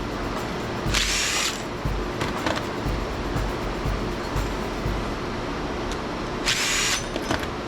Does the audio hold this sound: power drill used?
yes